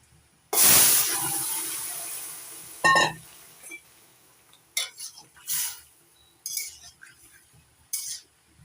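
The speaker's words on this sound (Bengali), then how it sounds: "আর একটু কালো জিরে এবার তরকারিটা ফোড়ন দেবো" Black cumin seeds hit hot oil in a curry pan of gourd greens and prawns, giving a sharp burst of sizzle followed by scattered metallic clinks and scrapes of a spoon against the pan, with brief hissing in between.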